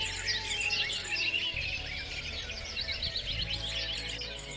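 Birds chirp and twitter continuously in overlapping high calls, fairly close, with a low steady hum underneath and no talking.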